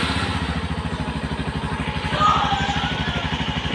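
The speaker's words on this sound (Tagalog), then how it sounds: "dinggin natin yung tunog ng kanyang makina" A Yamaha Serow 250 single-cylinder engine idles nearby with a steady, rapid low thumping, and a brief slight rise in the middle before it settles back to an even beat.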